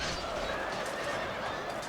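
A horse whinnies in the samurai-era strategy game Shogun 2: Fall of the Samurai, a faint neigh lying under a constant battle-ambience hiss.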